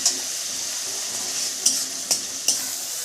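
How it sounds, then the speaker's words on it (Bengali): Curry frying in a pan with a steady sizzle while a utensil stirs it, three distinct scraping clinks against the pan standing out over the hiss. "ভালো করে নাড়াচাড়া করব।"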